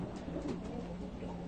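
A performance pigeon, a champion-breeding hen, coos low and steady at close range over a continuous murmur of a pigeon show hall, with no speech over it.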